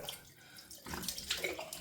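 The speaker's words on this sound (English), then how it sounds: "Rinse the face with cold water now." Cold water splashes and runs from a tap close by, a soft hiss that swells into louder rinsing splashes as a face is rinsed.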